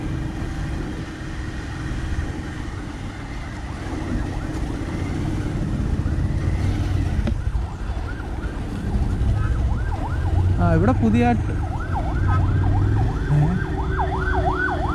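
An ambulance siren wails along the NH 66 road, where widening work is underway. Its rising and falling tone grows clearer and louder in the second half over steady traffic rumble, and someone speaks briefly nearby.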